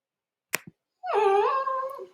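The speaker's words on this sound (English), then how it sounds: "the dog downstairs is upset because his parents left" A dog downstairs whimpering and crying after its owners left: a couple of soft clicks, then a sustained, wavering high whine, fairly close and alone.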